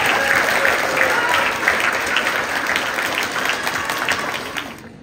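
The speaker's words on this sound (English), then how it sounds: "all the cheering and clapping that you" An awards ceremony audience claps steadily, a thick wash of applause that stays loud for several seconds and then tapers off near the end, with little distinct cheering above the clapping.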